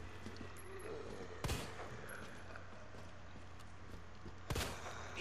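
Two sharp gunshots from Leon's weapon at a zombie in Resident Evil 2 Remake, spaced a few seconds apart over a low steady game ambience, with no talking.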